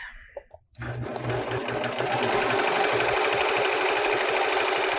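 A serger sewing machine runs a chain stitch, starting after a short faint pause into a steady, fast mechanical whirring buzz that continues evenly to the end.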